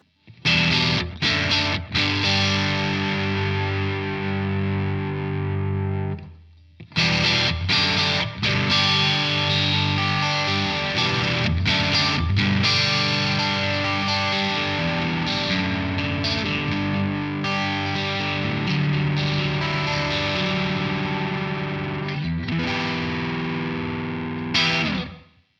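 Electric guitar played through a Sonicake Levitate reverb and delay pedal, a sustained distorted part with heavy ambient effects, notes trailing and fading into long washy repeats, loud and continuous with a brief pause near the start.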